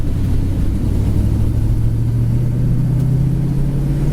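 A 1972 Ford Mustang Mach 1 with a four-speed gearbox accelerates, its engine giving a loud, steady rumbling drone whose pitch climbs gradually. The engine is heard alone, up close.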